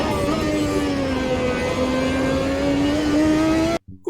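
Race car engine in the Automobilista 2 sim at the Adelaide street circuit, a steady loud droning whine holding pitch through a bend onto the main straight, then cutting off abruptly near the end.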